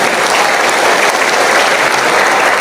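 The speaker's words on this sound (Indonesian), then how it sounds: "Tepuk tangan untuk NKRI." An audience at an Indonesian religious lecture breaks into dense, loud applause, a steady wash of clapping that fills the whole moment with no voice over it.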